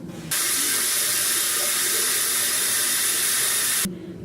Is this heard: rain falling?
no